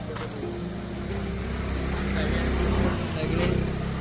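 Dense traffic of many cars crowding the road on the way to Barvi dam near Badlapur, a steady close engine rumble and drone with passing vehicles swelling and fading, and people talking over it.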